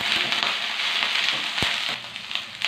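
Betel leaf stalks and curry leaves sizzle and crackle steadily in hot oil, a close, continuous frying hiss with a few sharp pops, for a betel leaf and tomato chutney.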